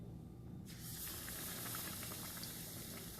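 A batter-dipped stuffed chili bajji dropped into hot oil, with a sudden loud sizzle that starts after a quiet moment and keeps bubbling and hissing steadily.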